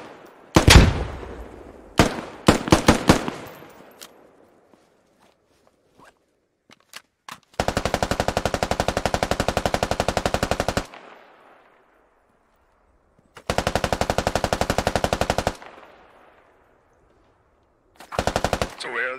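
Gunfire in the Squad Ops game on the Farmers Fate operation: a few loud single rifle shots, then three long sustained bursts of rapid automatic fire separated by silences, close and sharp, with faint voices.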